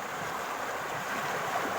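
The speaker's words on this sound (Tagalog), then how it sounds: "Lakas ng alon." Strong ocean waves on a shore where small crabs are gathered, heard as a steady, broad roar of surf with wind buffeting, fairly quiet and continuous with no voices.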